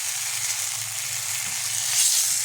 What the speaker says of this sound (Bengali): এবার আমি ওকে জল দিয়ে দেবো।